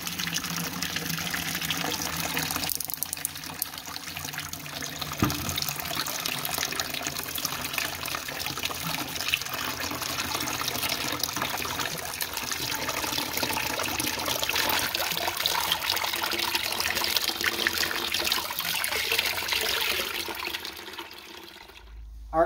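Water trickling and draining steadily out of a Nissan 350Z intake manifold into a collection jug, a continuous splashing, gurgling flow heard close up, alone and without talk, ending abruptly.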